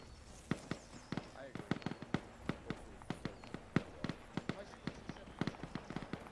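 Rapid, overlapping gunshots crack at irregular intervals, five or six weapons firing at once from a moderate distance in an Arma 3 battle.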